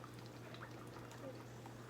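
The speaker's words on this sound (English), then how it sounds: "So I'm gonna take some heavy cream, pour it in a thing." Heavy cream pours into a pot of potato corn chowder on the stove, a faint, soft steady gurgle over a low background hum and the simmer of boiling potatoes.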